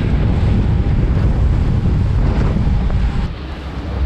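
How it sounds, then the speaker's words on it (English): Strong wind buffets the microphone out on the open Gulf of Mexico from a boat, a loud continuous low roar with sea wash beneath, easing slightly near the end. "Got a little breezy."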